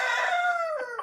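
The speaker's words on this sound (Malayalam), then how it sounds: "കോഴിയുടെ സൗണ്ട് നിങ്ങൾ കേട്ടെങ്കിൽ അത് എൻ്റെ വീട്ടിലെ കോഴിയാണ്" A rooster crows once, close and loud, a long drawn-out call that tapers off with a couple of short clucking notes at the end.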